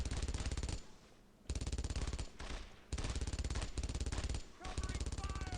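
Thompson submachine gun bursts in the World War II shooter Brothers in Arms: Road to Hill 30, three long rapid automatic volleys split by short pauses, loud and close.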